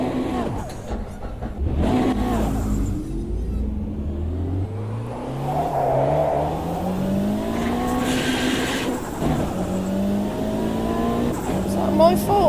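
Race cars in the Automobilista 2 racing game with engines revving and shifting pitch, then a collision from the outside with tire squeal and skidding, loud and continuous throughout, while someone talks over it.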